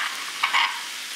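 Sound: crushed garlic and shallots frying in butter

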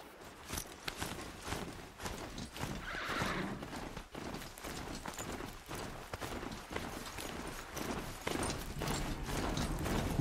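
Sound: horse in a video game

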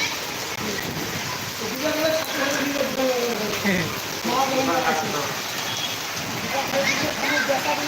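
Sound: heavy rain

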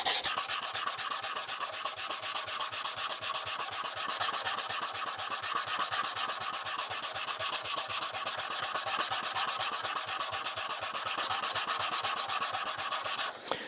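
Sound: sanding wood block with sandpaper

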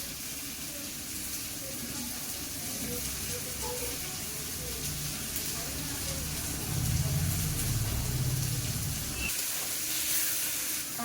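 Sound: spices frying in oil for fish curry

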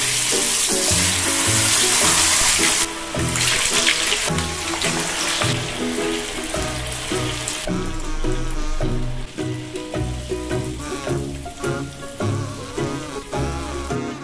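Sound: tofu cubes frying in oil

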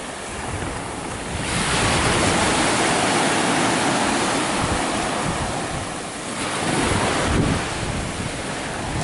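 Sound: ocean waves breaking on a Jamaican beach

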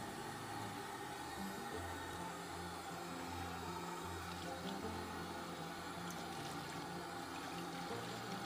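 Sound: water rinsing soap suds out of a synthetic hair wig

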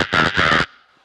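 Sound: voice imitating a monkey

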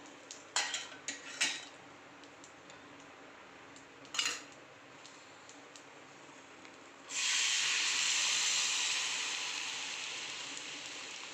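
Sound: milk added to pan of golden fried cashews and almonds

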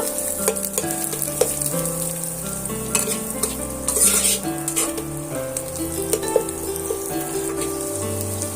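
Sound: stirring scrambled egg with spatula in pan

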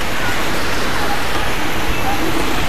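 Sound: rain during bicycle ride along beach

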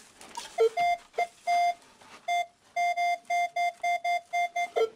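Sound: short detector beep while treasure hunting in an attic

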